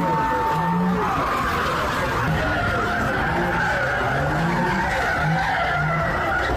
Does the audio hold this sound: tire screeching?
yes